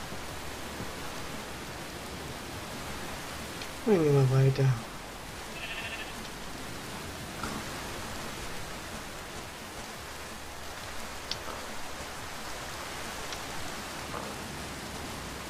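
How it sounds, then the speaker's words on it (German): Steady rain falls in the video game Minecraft, a constant hiss of even noise throughout. A sheep bleats briefly partway through, and a person speaks once. "Ach. Regen."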